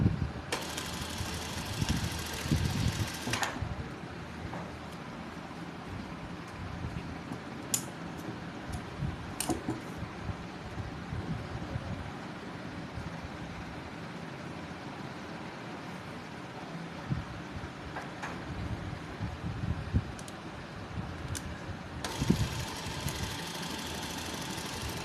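A sewing machine stitches the inside of a shirt cuff in two loud whirring runs, one at the start and one at the end, with quieter handling noise and ticks between them.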